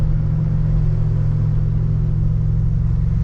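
1986 Buick Grand National engine idling at about 185 degrees water temperature, a steady low rumbling hum with an even pulse, close and constant with no revving.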